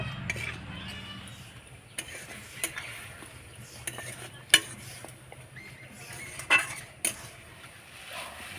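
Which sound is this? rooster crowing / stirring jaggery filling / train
stirring jaggery filling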